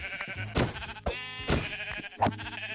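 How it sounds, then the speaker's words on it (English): Minecraft sheep bleat close by, four short wavering bleats spaced about half a second apart over a faint low background hum. "there's some sheep over here"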